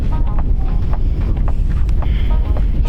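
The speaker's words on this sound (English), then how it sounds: "really windy out there again." Strong wind buffets an outdoor microphone in a steady, roaring rumble, loud and unbroken for the whole stretch, while a runner crosses open African terrain.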